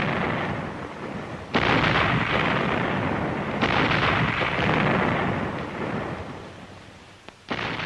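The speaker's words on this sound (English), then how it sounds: "A synchronized barrage, with the entire regiment backing up Glamour Gal as she blistered the paint off her tube" A 1945 artillery regiment, with the gun Glamour Gal among it, fires a synchronized barrage: a dense, sustained roar of heavy booms that swells sharply several times and rumbles on loudly throughout, with no voices.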